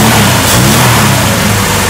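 Engine of a rare Talbot 10 two-seater coupe running steadily with a deep, throaty note, loud and close throughout with no talk over it.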